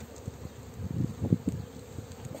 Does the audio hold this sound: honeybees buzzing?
yes